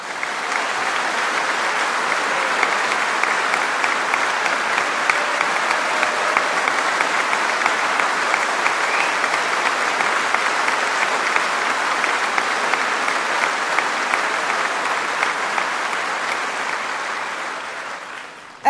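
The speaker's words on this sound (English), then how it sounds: "conference should applaud her" A large Labour Party conference audience in a big hall keeps up long, even, sustained applause for nearly twenty seconds before it tapers off at the very end.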